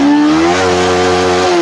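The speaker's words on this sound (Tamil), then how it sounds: "ரேஸ் பண்ணுறேன் பாருங்கள்." Yamaha R15 V3 motorcycle engine revving with a suspected charging fault: a loud, steady, close buzzing engine note that rises slightly and holds, with no talking.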